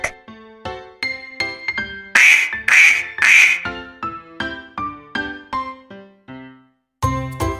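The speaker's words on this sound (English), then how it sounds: "Duck." A duck quacks in a children's animal-naming game, a few loud nasal quacks bunched together mid-clip among bright chiming tones and short musical notes, with a louder chime at the end.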